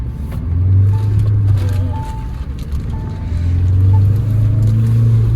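Mahindra Thar Roxx SUV with manual transmission driving at about 50 km/h during a stability test, giving a steady, loud engine drone and road rumble with low tonal hum throughout, no voices.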